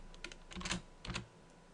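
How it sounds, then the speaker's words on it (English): Commands typed on a computer keyboard at a Linux server boot prompt: a short run of crisp, close key clicks in two small clusters, with no talking. "what we can type in here is root"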